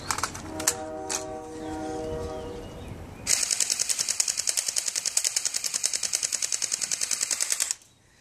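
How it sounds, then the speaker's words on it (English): After a brief mechanical clatter and a low hum, an airsoft gun fires on full auto, a fast even stream of sharp snapping shots lasting about four seconds before it stops abruptly. "And, Nick, go full auto"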